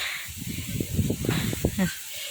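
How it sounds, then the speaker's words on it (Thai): Strong, cold wind blowing across an open rice field in the hills of northern Thailand, buffeting the microphone in a steady stream of rumbling, hissing gusts, loud and close, with no talk. "เสียงลม"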